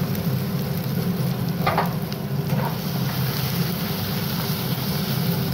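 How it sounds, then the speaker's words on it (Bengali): Onion and tomato frying in hot oil produce a steady, loud, broadband sizzle that stays constant throughout, with a couple of faint stirring scrapes near the middle. "পেঁয়াজটাকে এখন তেলের মধ্যে ভাজা ভাজা করছে"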